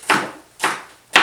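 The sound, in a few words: chopping onions on wooden board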